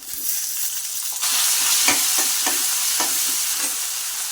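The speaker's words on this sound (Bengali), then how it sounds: "আমি যে টমেটো কেটে রেখেছিলাম ছোট ছোট করে সেই টমেটোগুলো দিয়ে দিচ্ছি তেলের মধ্যে" Small-cut chopped tomatoes dropped into hot oil where potatoes have fried, the sizzle jumping louder and holding as a dense hiss, with a few sharp spoon clicks against the pan.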